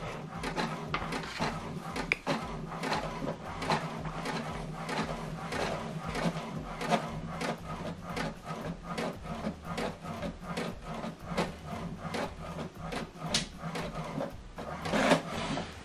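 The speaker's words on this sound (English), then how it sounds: "Okay, the second one is printing." An HP printer works through a document with a quick, steady run of mechanical clicks and rattles from its feed and print head, close by and fairly quiet, continuing evenly without any voices.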